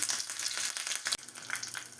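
Mustard seeds and curry leaves sizzle in a spoonful of hot oil for a tempering, a loud crackling hiss with a brief dip partway through, close and alone.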